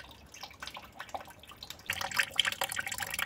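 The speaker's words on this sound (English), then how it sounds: "As you can hear, around here you hear something running like water." Water runs and drips while liquid fertilizer is extracted from peelings, with irregular splashing trickles that grow louder and busier in the second half.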